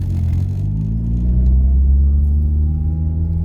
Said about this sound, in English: come with me for a ride in the K-Swap Starion.